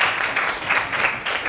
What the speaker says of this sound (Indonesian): Kita beri aplaus pada Mas Ardian